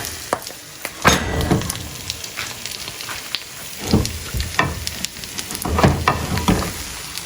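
Milkfish sisig (bangus) set onto a hot sizzling plate, giving a loud, crackling sizzle with scraping and clinking of utensils in repeated bursts, close up and without talking.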